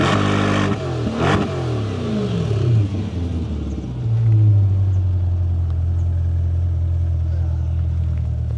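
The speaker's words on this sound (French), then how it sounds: "je vais te mettre le micro derrière et je vais venir accélérer" A car engine revs hard, heard from behind in an underground parking garage, with a loud roaring sweep that settles into a deep echoing idle rumble.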